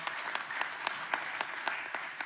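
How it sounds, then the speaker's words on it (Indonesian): Lively crowd applause at a political party event announcing a vice-presidential candidate, a steady roar of clapping with regular sharper accents throughout. "Kita berikan tepuk tangan yang meriah buat beliau."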